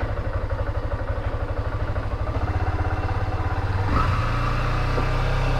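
A motorcycle engine that has sat unused for weeks runs with a steady, rapid thumping idle close by, and its tone shifts slightly partway through. No voices.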